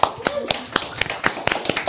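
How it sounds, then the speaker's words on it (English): Sparse claps ring out at a steady pace, sharp single hand claps spaced evenly apart, fairly close and moderately loud with no voices. "Big round of applause for Chris."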